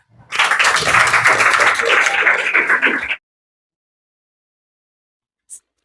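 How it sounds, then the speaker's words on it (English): Loud, dense applause from an audience at a workplace monthly reward and recognition ceremony runs for about three seconds, then cuts off abruptly into silence, followed by one brief faint tap. "Please give a big round of applause for Archana."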